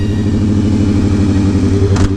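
A vehicle revs steadily to warm its tires, a loud continuous engine drone with a throaty mid-range rumble that holds constant throughout, briefly joined by a short bright burst near the end.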